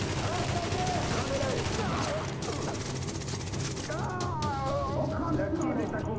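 Rapid bursts of gunfire from the video game The Division, with shots crackling over a dense, steady game mix and voice chatter throughout.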